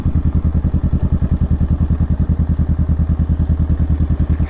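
A motorcycle engine runs close and loud at a low, even speed, its thumping beat pulsing in a steady, rapid rhythm throughout.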